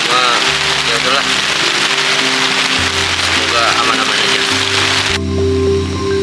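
Heavy rain pouring steadily at a riverside campsite, a dense close wash of hiss that persists throughout while a person speaks briefly over it.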